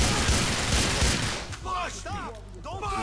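Gunfire in the video game GTA IV, a dense burst of shots that fades into scattered sounds and voices behind it.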